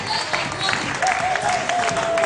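A church congregation applauding and cheering in an assembly, a dense steady wash of clapping with crowd voices and a voice mixed in.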